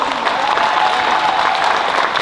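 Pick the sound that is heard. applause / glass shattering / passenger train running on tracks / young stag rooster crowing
applause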